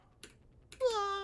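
A short electronic video game sound of a character dying: a couple of quick blips followed by a descending wavering tone, fairly close and clear.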